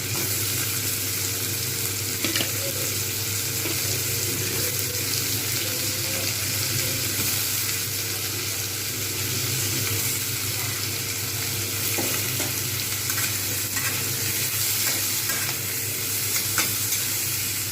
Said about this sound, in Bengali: যেহেতু চচ্চড়ি হবে তাই একটু ভালো করে ভেজে নেওয়া দরকার রয়েছে